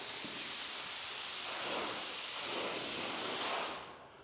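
A paint spray gun sprays a panel with a steady, loud, airy hiss that holds evenly for several seconds, then cuts off sharply near the end.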